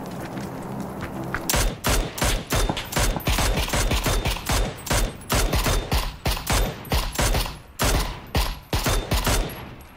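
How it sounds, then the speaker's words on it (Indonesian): Loud, rapid bursts of automatic gunfire in the video game PUBG ring out in quick, uneven volleys, close and sustained throughout, with no talking. "Tembakan dari mana bang Fing?"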